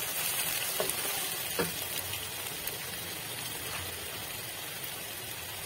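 Two medium tomatoes added to a pan for aloo methi sabzi and frying, a steady hissing sizzle with a couple of soft knocks early on, fairly quiet and even throughout.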